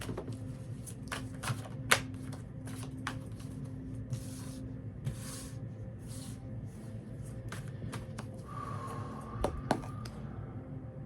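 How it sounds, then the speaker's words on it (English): Oracle cards being shuffled and drawn by hand, heard as soft, intermittent riffles and flicks with a few sharper snaps over a quiet room hum, no talking. "I'm going to draw a couple oracle cards for you just to finish up your reading."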